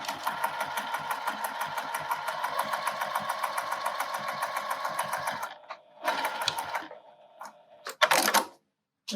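A sewing machine runs fast and steady while stitching quilt binding, its rapid, even needle chatter close and clear. It then stops and gives a few short back-and-forth bursts for backstitching at the corner before falling quiet.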